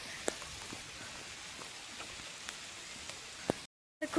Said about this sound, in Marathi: हे बघू शकता पाऊस